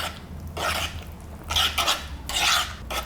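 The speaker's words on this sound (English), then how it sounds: "Let's give that a mix" Melted unsalted butter being stirred into banana bread batter in a bowl, with several rhythmic scraping passes of a utensil, close and fairly loud, and no talking.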